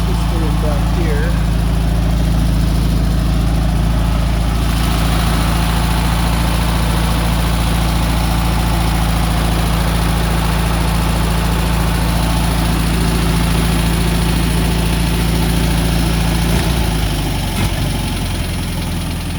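A rear-mounted Volkswagen engine in a 1952 MG TD replica kit car idles steadily and loudly nearby, a constant low rumble with a faint hum above it that shifts slightly near the end.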